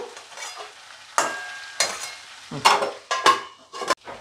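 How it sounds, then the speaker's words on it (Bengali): Potato and capsicum curry sizzles in a pan as a spatula stirs it in several scraping strokes, close and moderately loud, with no one talking. "আর একটুখানি করি, ক্যাপসিকামগুলোকে আর একটু নরম করি"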